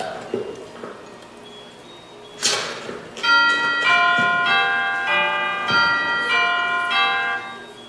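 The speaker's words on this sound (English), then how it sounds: "Who rang that bell?" A bell at the ornate Emerald City door in The Wizard of Oz rings with a sharp strike, then a sustained run of bright, overlapping chimes, loud and close.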